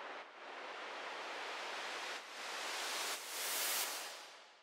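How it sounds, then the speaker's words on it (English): Broadband white noise shaped by an LFO swells and dips in slow waves, rising and falling in brightness like surf, with no other sounds present. "I could take a white noise and shape it with the LFO."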